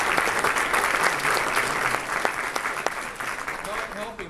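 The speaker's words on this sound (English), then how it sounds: "Let's give her a round of applause." Full, sustained round of audience applause at a public speaking event, loud and even throughout with a few sharper claps standing out, tapering slightly at the close.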